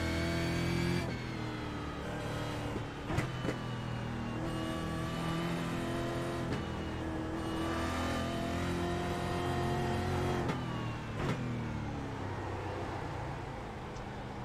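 A Brazilian stock car engine drones and revs in an iRacing simulation, a steady harmonic engine tone near 6,000 RPM, with brief gear-shift dips and clicks breaking it up, no voices.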